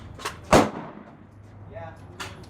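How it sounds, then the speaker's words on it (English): A Smith & Wesson M&P 15 Sport II rifle fires at a range: one loud, sharp shot stands out, with a fainter crack just before it and another later. "Let's see how it shoots now."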